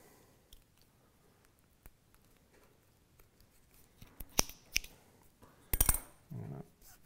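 Scissors snip through cord for a compass case kit, a few crisp close cuts clustered near the end after a quiet stretch with faint handling noise.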